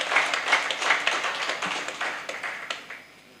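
An audience applauds at an evening poetry gathering in Meerut, dense clapping that starts full and gradually thins and fades out over a few seconds.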